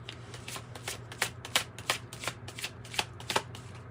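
A regular tarot deck is shuffled by hand at close range, a quiet run of quick riffling bursts that recur roughly every third of a second over a low background hum, with no talking.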